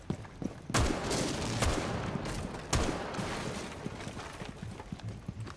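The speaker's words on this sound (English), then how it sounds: "I'm just shooting the camera." Gunfire in Rainbow Six Siege as a player shoots out a camera, a few sharp shots standing out over a busy, noisy game soundscape, fairly distant and moderately loud.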